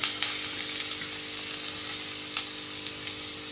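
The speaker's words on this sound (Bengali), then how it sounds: "এবার গাজরগুলো আমি একটু ভালো করে ভাজা ভাজা করে নেব" Grated carrots frying in ghee with small cardamom pods, cinnamon pieces and a bay leaf, giving a steady close sizzle with light crackles and occasional soft stirring, no voices.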